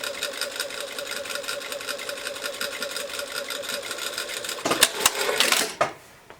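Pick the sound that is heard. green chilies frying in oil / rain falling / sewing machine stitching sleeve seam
sewing machine stitching sleeve seam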